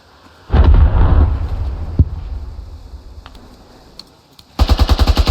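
Machine gun fire in the video game Squad: a loud burst of rapid shots with a heavy booming tail that fades, a single sharp report, then another fast rhythmic burst of close gunfire at the end.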